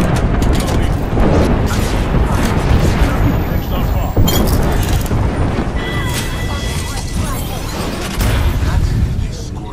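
Gibraltar's airstrike in Apex Legends sets off a rapid barrage of heavy booms and blasts that roll on continuously and loudly, with gunfire and game noise mixed in.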